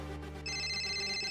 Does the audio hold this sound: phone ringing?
yes